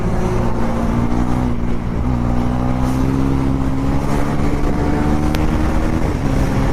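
Bajaj Pulsar NS400Z motorcycle riding a wheelie in heavy traffic, its engine holding a loud, steady drone with a sustained rising pitch, dominated by engine and wind noise throughout.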